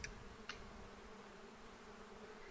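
A bee in the beekeeping video game APICO buzzes as a faint, steady low drone under a soft background hum, with two brief clicks near the start and no talking.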